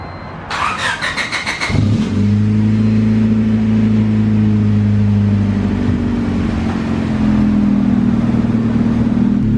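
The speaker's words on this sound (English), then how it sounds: "I'm gonna go ahead and start the car up because I haven't started in about a week" A Honda Civic that has sat unused for about a week cranks over in a quick burst of starter whine, then catches and settles into a loud, steady idle with a deep rumble that runs to the end.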